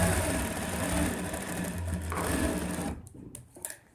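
A sewing machine stitches a ladies suit in a steady, loud mechanical whir for about three seconds, then stops, leaving a few faint clicks and handling noises.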